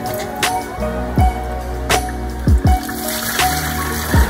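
Water from a Kanazawa low-sugar 5-liter rice cooker is poured out, a continuous near splashing and trickling stream broken by repeated gurgling drops and glugs, loud and steady throughout.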